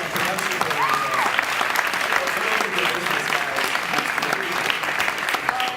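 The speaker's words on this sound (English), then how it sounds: "round of applause for Puerto Rico." A festival audience gives a sustained round of applause, dense clapping and some cheering filling the room steadily for several seconds.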